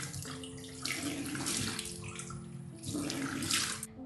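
Tap water runs into a sink for face washing, a steady close splashing rush with small surges as hands move through the stream, lasting the whole time before easing at the end.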